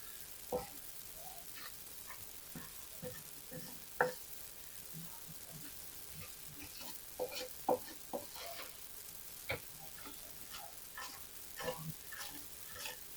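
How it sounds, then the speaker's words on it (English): Shortbread dough being mixed in a bowl: soft, irregular scraping and thudding strokes of a utensil, close and fairly quiet over low background noise, without speech. "we're just going to mix this until it's together"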